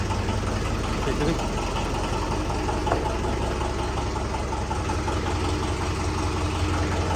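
A steady, rumbling car engine idles continuously while warming up, loud and close, with a faint voice or two barely heard underneath.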